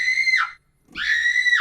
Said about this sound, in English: You have a scream.